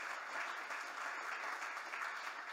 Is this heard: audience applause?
yes